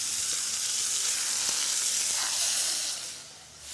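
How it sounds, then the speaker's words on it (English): Seasoned scallops sizzle steadily in clarified butter in a preheated sauté pan, a dense, bright frying hiss that fades slightly near the end, with no talking. "now you want to put it in a preheated saute pan with the clarified butter. Add the seasoned scallops right to it."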